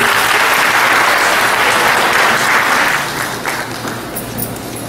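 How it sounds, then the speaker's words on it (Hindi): An audience at a Hindi talk on stress management breaks into loud, dense applause to welcome the speaker, steady at first and then thinning out over the last couple of seconds. "एक बार जोरदार तालियां डॉक्टर ख्वाजा अली।"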